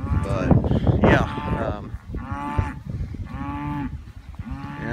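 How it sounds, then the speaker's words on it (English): Balancer and Gelbvieh cross bulls on a farm give several loud, drawn-out moos one after another, close to the microphone, with some overlapping noise at the start. "Balancer and Gelvies, they are nice bulls."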